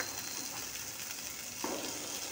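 Onion and tomato frying in oil in a kadai, giving a steady, soft, close sizzle that stays even throughout, with a slight stir or spatter near the end and no voices.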